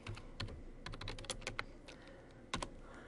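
Search words typed on a computer keyboard: quiet, irregular clusters of light key clicks with short pauses between bursts, close and alone.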